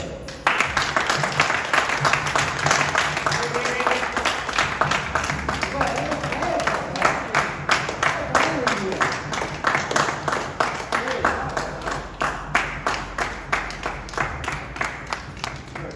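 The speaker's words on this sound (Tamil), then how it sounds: "பலத்த கரகோஷத்தோட" Loud audience applause greets a cake cutting at a school alumni reunion at a resort, with steady clapping running through the whole stretch while voices talk over it.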